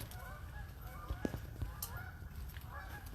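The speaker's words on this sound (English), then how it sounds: "there seemed to be a flock of geese very nearby" A flock of geese honks nearby during a night hike on a path near water, a few distinct honks rising over a steady background hiss, with no voices.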